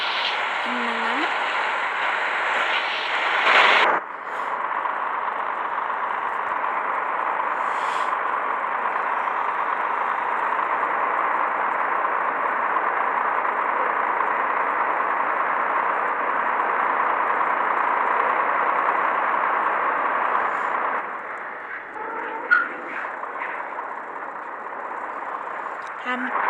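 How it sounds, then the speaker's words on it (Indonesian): A Mercedes Axor truck engine drones steadily from inside the cab, a smooth, even hum that runs for the whole stretch, with a brief shift near the start and some lighter noises toward the end. "Jalan kok suara mesinnya tenang amat."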